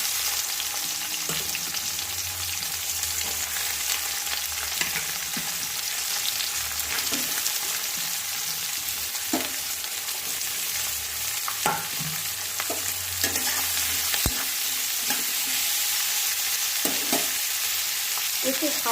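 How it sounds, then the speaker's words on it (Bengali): Onion and capsicum fry in oil in a pan for chicken kosha, a steady close sizzle broken by repeated scraping and clacking strokes of a spatula as the pieces are stirred. "দু সেকেন্ডের মতো ভেজে নেব, নিয়ে এবারে পেঁয়াজটা প্রথমে তুলে দেব।"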